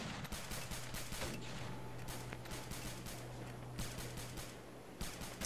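Gunfire in the Arma 3 video game during a Vietnam-era operation: rapid, dense bursts of automatic fire crackle continuously, with sharper louder shots at intervals over a low engine-like drone.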